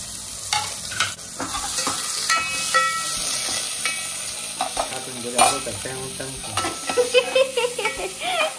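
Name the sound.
onions frying in oil for squid ambot tik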